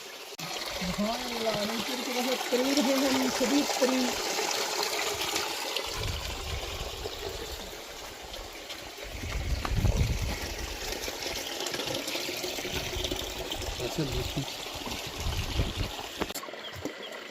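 A mountain spring flows from the base of a very large mountain, giving a steady, close trickle and wash of water throughout, with a voice speaking over it near the start.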